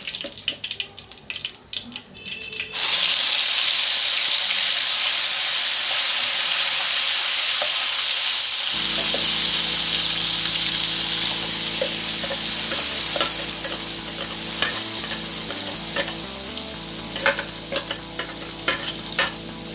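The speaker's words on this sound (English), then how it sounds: "now cook this onion paste" Paste of three medium onions hits hot oil over a lowered flame, bursting into a loud, dense sizzle that continues steadily, joined later by low stirring scrapes in the pan, with no voices.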